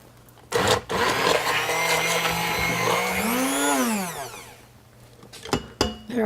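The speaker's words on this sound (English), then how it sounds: "And use the blender" Blender chopping soup with added milk and grated sharp cheddar cheese, a loud steady motor whir with pitch rising and falling as the load shifts, running several seconds between short clicks and bumps.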